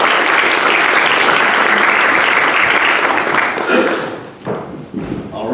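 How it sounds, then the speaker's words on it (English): A packed audience gives a speaker a round of applause at a founders' morning event, loud and dense clapping that holds steady, then thins and breaks off near the end as voices start in. "So let's give a round of applause to Justin and start our day."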